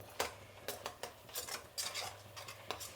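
Onions being stirred in a pan with a metal spoon, giving a series of light, irregular scraping and clinking strokes, quiet and close, with no talk.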